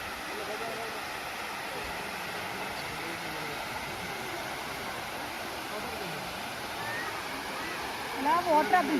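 Water at the Chikli Hole reservoir in Coorg rushes under a bridge, a steady broadband roar that continues throughout, with a few louder splashes near the end.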